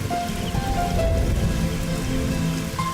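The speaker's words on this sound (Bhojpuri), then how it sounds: "देखा कितना जोर से बारिश हो रहा बा" Heavy rain falls steadily at night in a village home, a dense continuous hiss of drops on surfaces with a few faint tonal sounds in the background and no talk.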